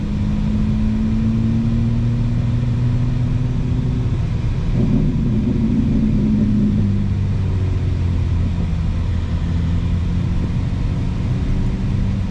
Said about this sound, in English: Pretty typical midday traffic in Atlanta.